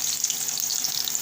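Onions sizzle steadily in hot mustard oil in a pan, a dense, continuous crackling fry heard close up with no talking.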